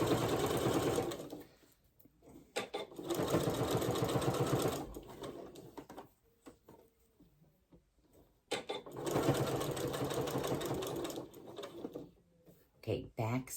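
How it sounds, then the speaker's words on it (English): A sewing machine stitches a star potholder in two long, steady bursts of rapid mechanical whirring, separated by quieter pauses with small handling clicks and thumps. "back stitch, front stitch, and cut."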